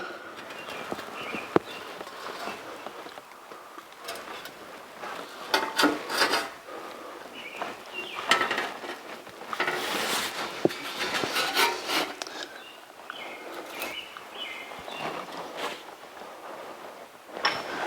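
A hand tool is cranked through stainless steel for a 1982 Jeep CJ7 heat shield, giving a steady, rough rasping grind with uneven surges across several full turns, close and alone without voices.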